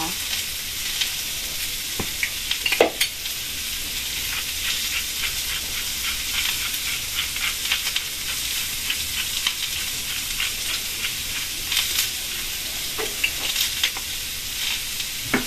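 Bean sprouts and tofu sizzle and crackle loudly in a hot pan while being stir-fried, a steady frying hiss broken by occasional sharp spatters and scraping stirs.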